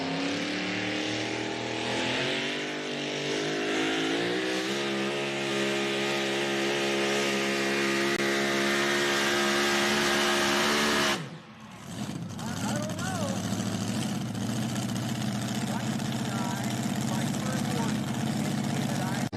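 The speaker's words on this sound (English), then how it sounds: "This is a 2000 Dodge with a 540 Hemi, big black Hemi." A 2000 Dodge pulling truck with a big black 540 Hemi roars at a truck pull, its loud engine climbing steadily in pitch for about eleven seconds before cutting off abruptly, then rumbling on while a voice speaks over the noise.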